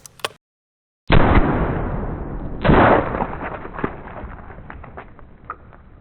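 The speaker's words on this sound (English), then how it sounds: "the most dramatic watermelon explosion I have ever seen from a 12 gauge shotgun slug" A 12 gauge shotgun slug strikes a watermelon in one loud, close blast after a brief silence, followed by a second heavy burst and a long scatter of debris and rumbling echo that slowly fades.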